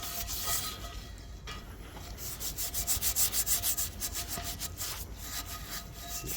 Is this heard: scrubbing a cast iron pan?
yes